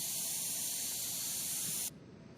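A healing spray from World War Z VR hisses in a steady, bright burst for nearly two seconds, then cuts off abruptly, leaving quiet background.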